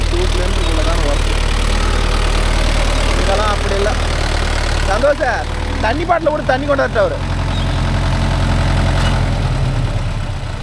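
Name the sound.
Mahindra Yuvo Tech Plus 585 DI 4WD tractor engine running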